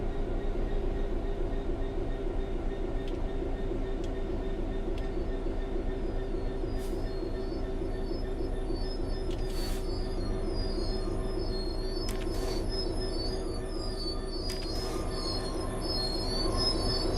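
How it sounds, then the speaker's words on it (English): A train in Train Sim World 3 coasts steadily on level rails with a continuous low rumble, occasional high wheel squeals and faint clicks. "The train will then coast on level ground"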